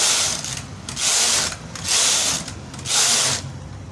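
A chunky-gauge knitting machine carriage is pushed back and forth across the needle bed, giving four rasping, whooshing passes in an even rhythm, close and loud with no talk.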